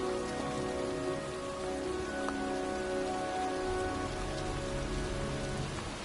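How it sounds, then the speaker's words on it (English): Steady rain falling outdoors in cold weather, a continuous dense patter at an even level throughout, with no voices. "It's cold. It's raining."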